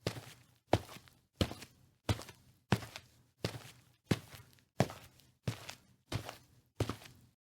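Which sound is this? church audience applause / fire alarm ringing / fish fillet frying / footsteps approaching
footsteps approaching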